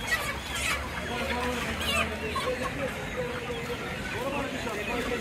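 Chickens cluck amid a busy, noisy night crowd at Kaptan Bazar market in Gulistan, with people talking throughout over steady background din.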